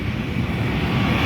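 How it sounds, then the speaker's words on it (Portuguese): An airplane takes off, a loud, continuous engine roar that holds steady and close through the brief moment, with no voices. "Olha essa decolagem aqui, ó, top demais."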